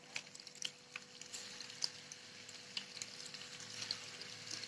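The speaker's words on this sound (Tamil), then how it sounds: "இதே மாதிரி எல்லா குழாவையும் நம்ம வறுத்து எடுத்துக்குவோம்." Prawn kola balls fry in hot oil with a soft, continuous sizzle broken by small pops and crackles, fairly quiet and close, with no talking.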